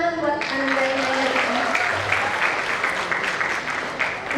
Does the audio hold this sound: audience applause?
yes